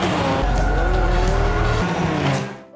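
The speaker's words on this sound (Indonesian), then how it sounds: "Lalu dia pun melaju kencang meninggalkan rombongan." Car tearing away at speed in a film chase scene, a loud, close engine roar with skidding tire squeal that fades out at the end.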